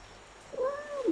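A single cat meows once, a short rising-then-falling call heard fairly close against a quiet room background.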